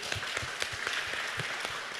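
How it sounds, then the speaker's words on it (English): Audience applause for Jayle at a Bitcoin education alumni talk in Chiang Mai, steady rhythmic clapping from a modest crowd filling the whole moment at moderate volume. "Give a round of applause for Jayle for putting this together"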